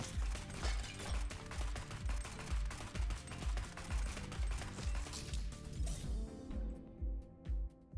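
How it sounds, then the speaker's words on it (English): Rapid automatic gunfire in the video game Neon Abyss, a dense string of fast-repeating shots with pounding low thumps, continuous and loud before cutting to a few scattered bursts near the end, with no speech. "They use fast-firing machine guns that shoot 5 bullets in a spread."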